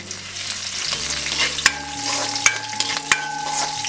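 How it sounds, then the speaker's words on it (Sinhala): Chopped chillies hitting hot oil for chickpea kottu, a busy crackling sizzle with stirring clatter and sharp metallic clicks of a spoon against the pan. "ඊළඟට අපි අපේ කපාගත්තු කොච්චි ටික දානවා."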